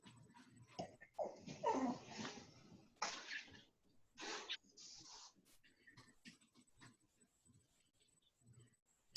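A dog whimpers and gives a few short barks, faint and somewhat distant, in scattered bursts amid low room noise and muffled household sounds.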